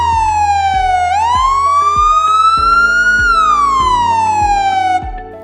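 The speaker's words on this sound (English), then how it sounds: "Police car" A police car siren wails loud and close, its pitch dipping and rising in a slow continuous sweep for about five seconds before cutting off abruptly, with no voices over it.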